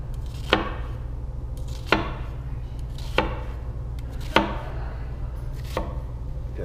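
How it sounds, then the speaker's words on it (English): A kitchen knife cuts vertically down through an onion, producing five evenly spaced, crisp chops against a cutting board, close and moderately loud over a steady low background hum. "So those are my cuts going through the onion horizontally. Now I want to go vertical."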